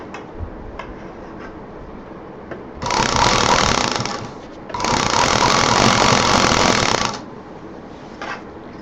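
A sewing machine stitches the side seams of a DIY college bag in two loud, steady runs of rapid needle clatter, broken by a brief pause, with quiet handling clicks before and after.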